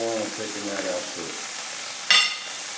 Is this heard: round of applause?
no